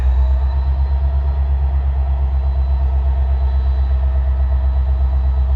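CN 5405, a freight train switching in Pembine in November, gives off a loud, steady low rumble with a constant mechanical hum. It is close and continuous, and no one speaks.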